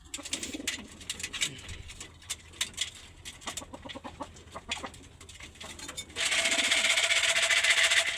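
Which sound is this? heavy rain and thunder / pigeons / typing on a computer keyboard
pigeons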